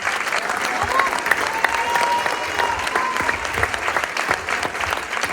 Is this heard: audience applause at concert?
yes